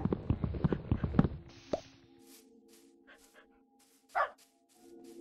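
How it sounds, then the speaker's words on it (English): A Minecraft dog barks in a quick burst of close yips at the start, followed by sparse game sound effects and one more short bark, with no talk. "Oh, bark, bark."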